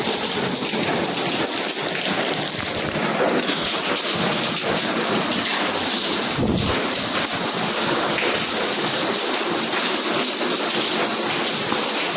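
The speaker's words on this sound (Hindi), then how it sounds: "देखो बारिश" Continuous rain pours down in a dense, even hiss, with a brief low rumble partway through.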